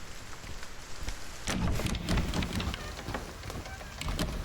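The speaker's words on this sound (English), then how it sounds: "You can hear the rain." Steady rain pours across the scene in the Silent Hill 2 Remake, a dense continuous hiss of drops on surfaces with a few louder splashes, no voices over it.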